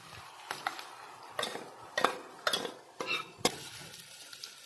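Blended onion paste, following fried onions in a pan of hot oil, is stirred with a utensil in sharp repeated scrapes and clinks against the pan, roughly one per second, over a low sizzle.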